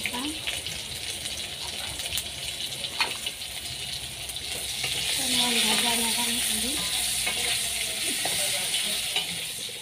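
Red lentils sizzle and fry in a pan in a home kitchen, with a steady hiss, occasional stirring scrapes, and a brief spoken voice partway through.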